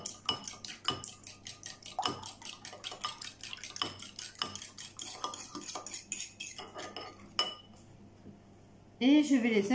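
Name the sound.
beating eggs and mixing in milk in a bowl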